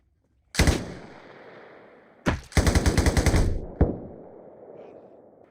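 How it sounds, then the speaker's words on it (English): Explosive mortar impacts and rapid automatic gunfire in the Arma Reforger combat game's US Civil War map: a loud blast, then a second heavy detonation followed by a dense burst of gunshots and a final sharp crack, with noisy rumble between. "that mortar strike's going off"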